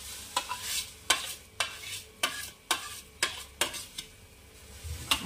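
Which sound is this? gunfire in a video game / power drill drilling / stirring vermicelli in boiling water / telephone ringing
stirring vermicelli in boiling water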